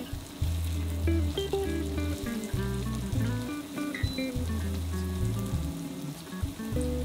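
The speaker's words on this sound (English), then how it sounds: "add the finely chopped garlic and sauté for a couple of minutes" Finely chopped garlic sautés in a pan for shakshuka, giving a steady, moderate crackling sizzle under continuous background music.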